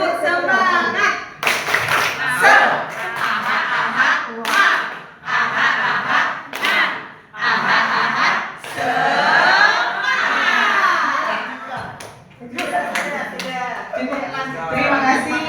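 A group in an Indonesian teachers' training session performs the 'tepuk semangat' spirit clap, a patterned series of loud, close claps in rhythmic bursts with short pauses, mixed with chanting voices.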